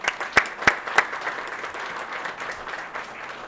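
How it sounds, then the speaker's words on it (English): Audience at a family business awards event applauding: a few sharp claps start it, then a sustained, moderately loud crowd applause gradually thinning out. "Give them a round of applause."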